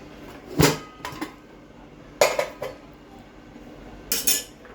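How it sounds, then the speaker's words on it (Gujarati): Metal clanks and clinks from a pressure cooker lid being handled and opened after cooking lilva totha with green pigeon peas, heard as three separate bursts of rattling metal in an otherwise quiet kitchen. "હવે આપણે કુકર ખોલીશું."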